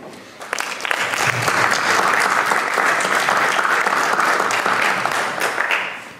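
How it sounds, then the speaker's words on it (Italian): An audience at a photography debate applauds steadily for about five seconds, swelling quickly, holding even and loud, then fading out. Faint voices mix in. "un applauso al sindaco"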